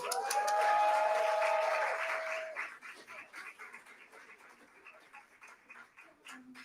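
An audience at a symposium in Washington DC breaks into loud applause with a high cheering whoop, then thins out into scattered, softer claps that trail away.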